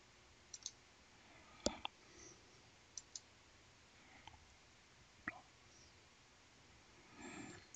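Faint, sharp computer mouse clicks on a software Run button, several scattered single clicks against quiet room tone.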